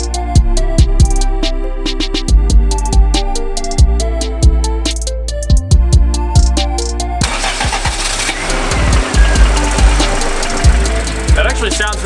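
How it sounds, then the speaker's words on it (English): A turbocharged Honda Civic cranks over and catches, then settles into a loud, close idle with rhythmic pulses and a brief rev. "then it'll go to the car starting right after"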